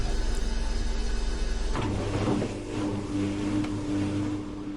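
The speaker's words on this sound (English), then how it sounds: "The washer and the dryer both have custom sounds." A custom washing machine sound in The Sims 2 laundry mod, a loud steady mechanical hum and rumble that shifts into a lower churning drone after a clunk, running alone with no voices.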